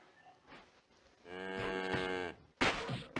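A cow in the video game SurvivalCraft 2 gives one long, close, clear moo, followed by a short burst of noise, with no talk.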